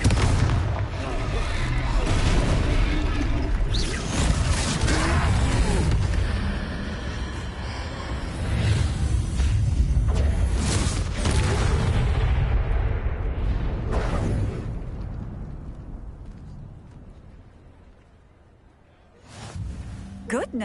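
Confringo blasting-curse explosions from the game Hogwarts Legacy go off in a battle against a troll, a rapid run of loud booms and bursts with voices and game sounds mixed in, fading out near the end.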